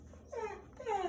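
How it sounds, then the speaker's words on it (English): A dog gives two short whimpering whines in quick succession, close and fairly quiet, each rising then sliding down in pitch, with only faint background between them. "that's my dog."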